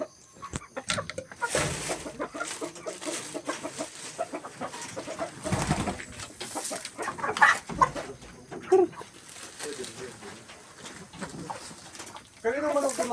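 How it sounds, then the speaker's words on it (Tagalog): Chickens clucking outside in a Davao neighbour's yard, scattered short calls rising now and then beneath ongoing conversation and household noise. "Kanino manok doon lang sa labas?"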